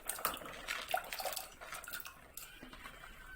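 Koorkka, or Chinese potatoes, go into a pressure cooker of water. Faint close clatters and soft watery splashes come as they are dropped in, with quiet metallic knocks.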